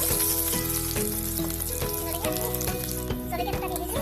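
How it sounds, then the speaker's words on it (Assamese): Onions fry in hot oil in a wok, a steady sizzle sitting beneath a rhythmic series of repeated tonal knocks and faint background voices. "তেল গৰম হ'ল এতিয়া পিঁয়াজ অলপ দি দিছোঁ"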